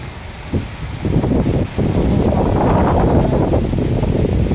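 Rain falling outdoors as a steady broadband wash that grows heavier after the first second and stays loud and constant, with wind buffeting the microphone.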